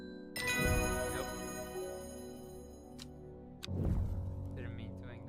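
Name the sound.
bell ringing in Strange Horticulture video game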